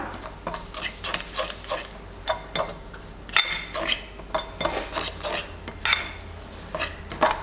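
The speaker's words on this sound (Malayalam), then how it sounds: "അത് കുറേശ്ശെയായി ചേർത്തിട്ട് നമുക്ക് മിക്സ് ചെയ്യാം" Desiccated coconut being mixed for coconut laddu: close, repeated scraping and clinking of a utensil against a bowl or pan, in an uneven rhythm with sharper taps, and no voices.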